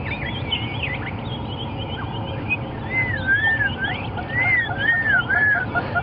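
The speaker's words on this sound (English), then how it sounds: "That is the sound of the black-crowned chagra." Black-crowned tchagra calling during a sunrise safari drive in the African bush, a series of clear whistled phrases rising and falling, moderately near, over a steady low rumble of an idling vehicle.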